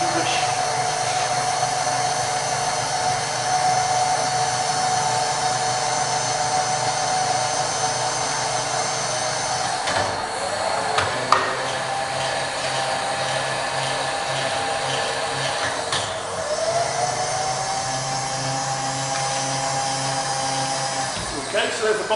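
Power feeds on a Bridgeport Vari-speed milling machine with a 42 inch table run together as a steady, loud electric motor whine, pitch shifting slightly midway with a brief click.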